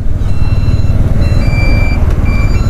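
A large truck manoeuvres with its reversing alarm beeping in a repeated high electronic pattern, over a heavy, rumbling engine nearby.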